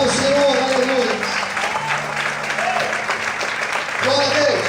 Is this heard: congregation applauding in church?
yes